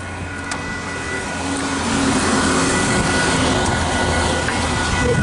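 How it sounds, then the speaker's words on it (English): Loud, steady rumble of a train rolling past the Paekakariki level crossing, building in intensity after a couple of seconds and holding a continuous broadband roar. "There's a train coming."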